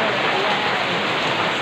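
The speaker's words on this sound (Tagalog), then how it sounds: "super lakas-lakas ng ulan" Very heavy rain pours down in a steady, dense roar of noise, close and continuous with no pauses and no voices.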